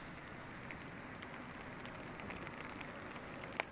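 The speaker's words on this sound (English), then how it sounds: "We hear the rain." Faint, steady rain patters in a soft continuous hiss, with a few light drips standing out near the end. No voices are heard.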